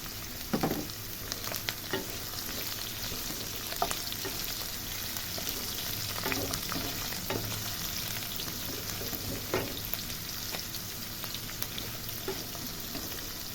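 Ginger, garlic and dried red chillies fry in hot oil in a pan, giving a continuous close sizzle with occasional scraping stirs throughout, and no talking.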